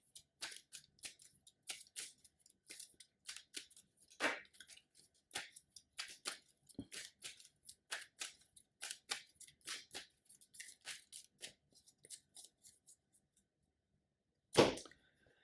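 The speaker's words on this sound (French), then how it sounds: "je mélange les cartes que j'ai mis de côté" Playing cards for the Arkham Horror board game shuffled by hand in a quiet room, a rapid run of crisp riffling flicks and snaps continuing for several seconds, then a pause and one sharper burst near the end.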